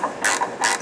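Ratcheting clicks from a wrench loosening the adjustment bolts on a Forrest bandsaw's wheel, two short bursts of close, bright metallic clicking with a brief pause between.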